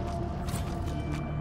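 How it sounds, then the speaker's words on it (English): A door mechanism opening in Divinity Original Sin 2, a continuous grinding, creaking churn of gears and ratchets, loud and close, with no voices. "now let's interact with this door"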